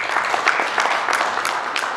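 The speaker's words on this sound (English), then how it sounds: "Round of applause for him." An audience at an e-commerce awards ceremony in Kenya applauds in a steady, moderately loud wash of clapping that lasts the whole moment, with a few sharper claps standing out.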